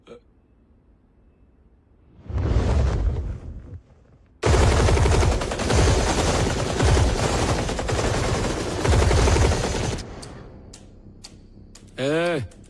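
Rapid bursts of loud gunfire, first a short volley then a long sustained barrage, with scattered smaller pops trailing off afterward.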